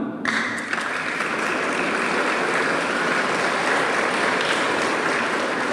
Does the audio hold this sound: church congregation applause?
yes